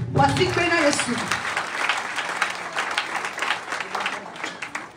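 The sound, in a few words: congregation applauding the Lord in church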